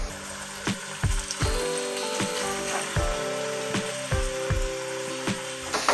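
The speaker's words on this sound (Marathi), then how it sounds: "चिकन आपल्याला कलर बदलपर्यंत जरा ना फ्राय करून घ्यायचंय तेलावर" Thin chicken pieces frying in oil spread across a flat tawa give a steady sizzle, with repeated clanks and scrapes of a spatula or ladle against the pan throughout.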